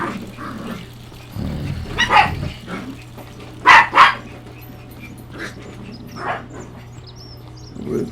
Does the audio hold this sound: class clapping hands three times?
no